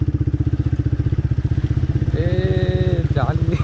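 Motorcycle engine chugging at a steady, close rhythm while the bike is ridden through standing water near Kanchipuram. A voice cuts in briefly over the engine midway.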